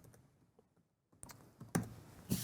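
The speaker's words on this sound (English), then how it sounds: "Now Elizabeth, say smart card, enter the PIN code" A PIN code being typed on a keyboard to log in to a Windows machine with a smart card, a few soft, sparse key presses, faint at first and then a couple of sharper clicks.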